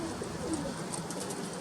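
Pigeons of a non-circling breed coo softly in a strong wind, a low repeated murmur under steady broadband wind rush.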